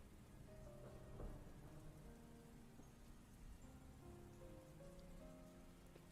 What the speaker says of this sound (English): Wait, are those storm sounds real?